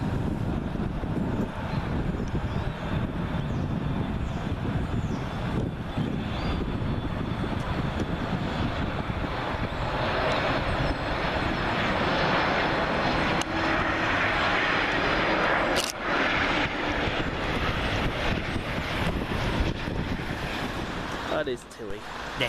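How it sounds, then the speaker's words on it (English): An Icelandair Boeing 737 MAX 8 from Reykjavik landing on runway 23R at Manchester Airport produces a sustained loud engine roar that builds and rushes like wind, with a couple of sharp clicks late on. "Iceland Air Boeing 737 MAX-8, registration Tango Foxtrot Indigo Charlie Mike, working flight FI440 from Reykjavik"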